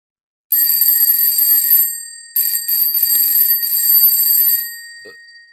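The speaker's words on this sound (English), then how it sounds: "And this is actually was designed to be a bicycle bell." An electric bell built as a bicycle bell and used as a doorbell rings in two loud, sustained bursts, the second broken into several short rings, followed by a faint click.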